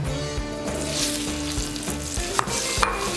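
Grapes sizzling in nutty browned butter in a pan, a dense continuous frying hiss with steady stirring and a couple of small pops, close and loud.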